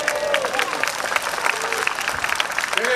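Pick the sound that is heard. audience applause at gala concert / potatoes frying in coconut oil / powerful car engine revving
audience applause at gala concert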